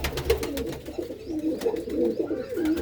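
Pigeons kept by a fancier in Kartarpur coo in overlapping low, throaty burbles, close and continuous throughout the short stretch, with no voices.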